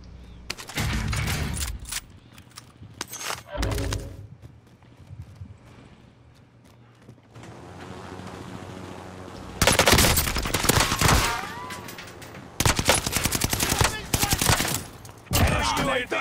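Gunfire rattles in bursts in a first-person shooter video game, loud and close, with quieter gaps between the volleys and other game sounds in the background.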